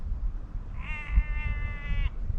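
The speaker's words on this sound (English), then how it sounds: "Some sheep up there going a bit crazy." A single sheep on Silver Howe in the Lake District gives a long, shrill, wavering bleat lasting about a second, heard close over low rumbling wind noise.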